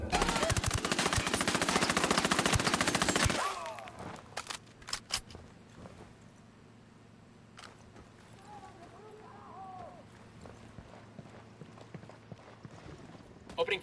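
Gunfire in the Ghost Recon video game: a loud, sustained automatic burst for the first few seconds, then sparse scattered shots and faint clatter under quieter background sound.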